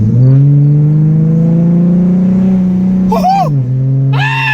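A V6 Mustang fitted with a Spectre cold air intake accelerates loudly from close range, a deep engine drone rising steadily before easing off, as excited shouting breaks in near the end.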